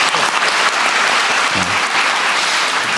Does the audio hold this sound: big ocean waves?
no